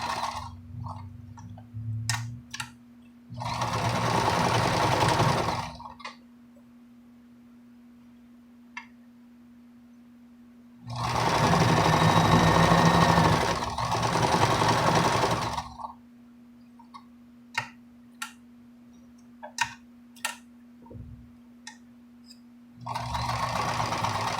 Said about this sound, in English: My sewing machine's close to it